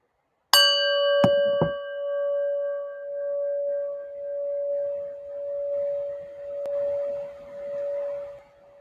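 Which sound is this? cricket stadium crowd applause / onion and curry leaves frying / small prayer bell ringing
small prayer bell ringing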